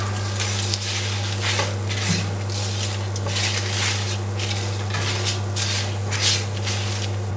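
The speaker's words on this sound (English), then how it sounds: "So I can smell the aroma from the spices, and they're toasting nicely." Whole spices toasting in a pan on low heat for a Mangalorean prawn curry: a soft, steady sizzle and crackle, close and quiet, with faint stirring over a constant low hum.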